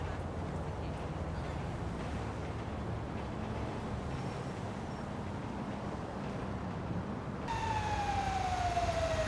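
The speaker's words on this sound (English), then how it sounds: "I hear some type of siren." Emergency vehicle siren in GTA V, a faint wailing tone under steady background noise that grows into a clearer, louder sweeping siren near the end.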